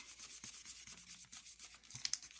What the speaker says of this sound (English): And give that a rub.